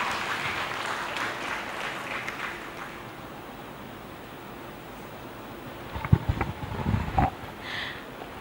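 An audience at a Thai school debate contest applauds a school's representative, a steady patter of clapping that fades out, followed by a few louder thumps and handling noises near the end.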